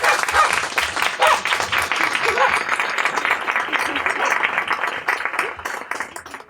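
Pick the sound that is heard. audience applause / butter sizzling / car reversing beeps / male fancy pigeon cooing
audience applause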